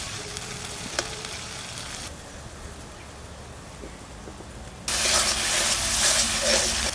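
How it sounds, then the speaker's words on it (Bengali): Spice masala with turmeric and salt frying and being stirred in a pan for a Sundarbans crab curry, a continuous close sizzle with scraping stirs, flaring into louder hissing for the last two seconds; no talk. "মশলাটা ভালো করে কষাই নেব।"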